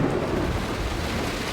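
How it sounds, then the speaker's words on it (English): Heavy rain pours down steadily during a thunderstorm over Chennai, a dense, loud roar with low rumbling thunder filling the background throughout. "Parts of Chennai witnessed heavy rainfall and thunderstorms"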